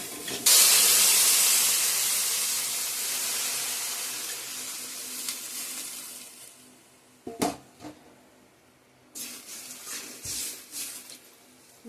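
Water poured into a pan of frying vegetables bursts into a loud, close hiss of steam that slowly fades, followed by a few sharp knocks and clatters of utensils.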